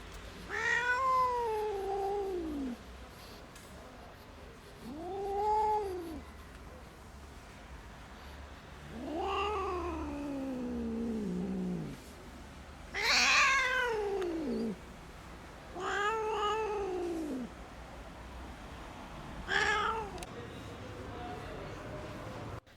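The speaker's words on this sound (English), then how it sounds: "otherwise the cat will continue to meow in pain" An old cat with a tumor meows in pain: six long, drawn-out, wavering yowls spread across the clip, separated by pauses, close and clear over a low steady background hum.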